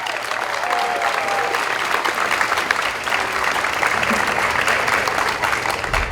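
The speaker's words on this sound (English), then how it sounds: "Please give her a round of applause." An audience at a lab-grown meat discussion panel gives a sustained round of applause, a loud, even rush of many hands clapping for several seconds.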